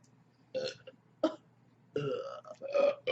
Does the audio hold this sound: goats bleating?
no